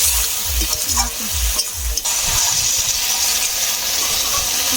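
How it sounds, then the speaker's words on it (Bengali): Taro greens being stirred in a frying pan with a little sugar added, a steady sizzle under repeated scraping strokes of the spoon, close and continuous with no talking. "ভালো করে নেড়ে ছেড়ে রান্না করে নেবো"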